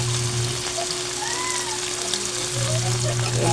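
Corned beef and potatoes sauté in a pan, giving a steady close sizzle and hiss with a few faint scraping stirs, plus a low constant hum underneath.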